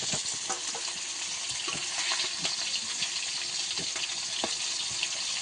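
Stinging catfish frying in hot oil in a pan, a faint continuous sizzle with scattered sharp pops and spatters.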